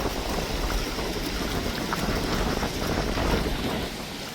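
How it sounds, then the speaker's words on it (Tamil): Strong wind blowing steadily along a coastline near Jaffna, bending coconut palms, a dense broadband roar that stays loud and constant throughout with gusty buffeting and no voices. "அந்த அளவுக்கு காற்று வீசி கொண்டு இருக்குது."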